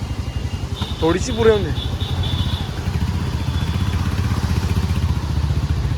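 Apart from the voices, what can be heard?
motorcycle engine starting and running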